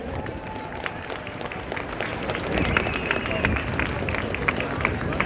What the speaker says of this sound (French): sous vos applaudissements, mesdames et messieurs, s'il vous plaît.